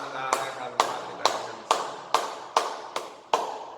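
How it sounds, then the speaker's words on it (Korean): Congregation clapping in unison during a Friday church service, eight evenly spaced sharp claps in a steady rhythm, fairly close and clear with no talk. "우리 하나님께 영광의 박수 올려드리겠습니다"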